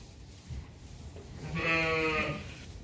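Tame sheep bleat in a barn at feeding time, one clear, fairly loud, drawn-out bleat rising in the middle over a quiet background.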